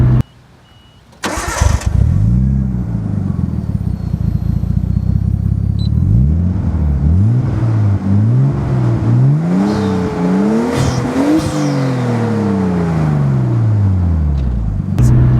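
A Nissan Skyline R32 starts up loud and close after a brief cranking, then settles into a deep idle and is blipped through a series of rising and falling revs.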